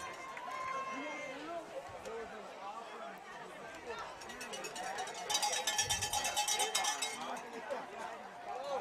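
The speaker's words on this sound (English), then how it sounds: "the crowd here on the sidelines here at Placer are going crazy" A capacity crowd roars along the sidelines at a Placer Hillmen versus Lincoln Zebras high school football game, a dense, steady wash of cheering and chatter with clanking cowbells that swells louder in the second half.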